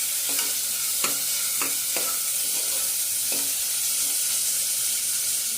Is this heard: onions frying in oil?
yes